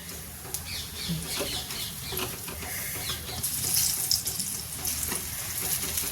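Urad dal vadas, mixed with a little moong dal, fry in hot oil in a steady, close bubbling sizzle with occasional clinks and stirs, and no voice.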